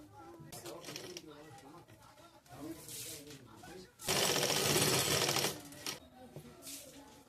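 A sewing machine stitching a blouse, bursts of rapid mechanical running with a longer loud run in the middle, quiet between, and a voice speaking in the pauses.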